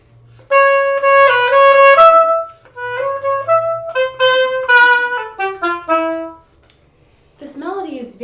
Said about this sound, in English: you will hear a very light and jazzy melody that is repeated in the oboe line.